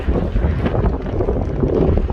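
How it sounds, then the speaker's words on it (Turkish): Steady wind gusting loudly across the microphone aboard a catamaran on the Marmara Sea, a continuous rough rumble with no voices. "Biraz rüzgar var."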